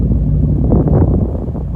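Wind buffets a microphone outdoors next to a parked car, a steady low rumbling roar that fills the whole short moment without pause.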